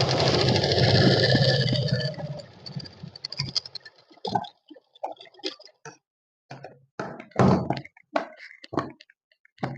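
Sewing machine stitching a kaftan dress: a steady whirring run for about two seconds, then scattered soft clicks and thunks as it slows and stops.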